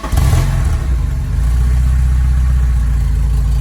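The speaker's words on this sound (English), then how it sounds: "we'll pull it out and have a look at the cold start. Stock exhaust on this 4-cylinder." A 1986 Porsche 944 four-cylinder engine with stock exhaust cranks briefly on a cold start, catches first go and revs up, then settles into a loud, steady low idle, close by.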